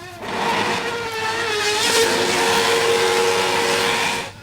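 A Red Bull Formula 1 race car roars loud and close on the streets of Dallas, its high engine note held steady and climbing slightly in pitch for about four seconds before cutting off.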